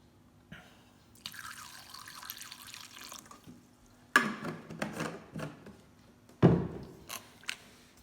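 Water running and splashing at a sink as homemade butter is rinsed, with bursts of pouring and dripping that come and go, close and moderately loud, with no talking.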